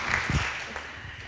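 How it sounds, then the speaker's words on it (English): Applause from an audience at a school awards celebration, a soft, diffuse patter of clapping with a few louder claps near the start, heard from a distance. "shall we have one more round of applause for the"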